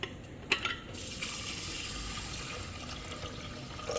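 Moong dal being washed with water for katte pongali: a steady pour and rush of water into a bowl, with a few brief clinks and splashes at the start, moderately faint and close.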